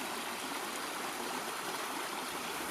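Water flows steadily over small cascades in a planted reed-bed treatment zone, a soft continuous rushing and trickling, moderately close with no voices.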